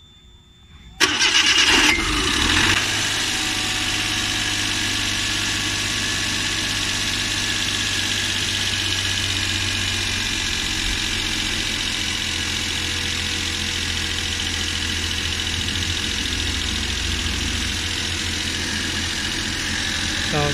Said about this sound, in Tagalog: yan na unang andar pagkatapos natin tinisan yung ating fuel injector